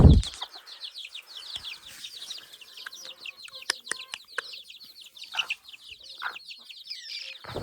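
Chickens, hens and chicks, cluck and chirp busily while being fed, with dense high peeping and occasional louder clucks up close.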